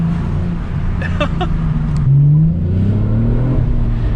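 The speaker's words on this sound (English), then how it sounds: "So we're going to get some rev clips of the car, so see how it sounds." Hyundai Tiburon with a high flow cat and cannon exhaust, its engine droning loudly and climbing in pitch as it revs, with a brief voice exclamation early on.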